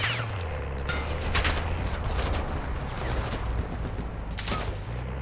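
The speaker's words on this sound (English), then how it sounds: "I'm seeing shots at you from the building" Continuous video-game gunfire crackles in a dense, steady fusillade of overlapping shots at moderate volume, with a few sharper reports standing out above the sustained barrage.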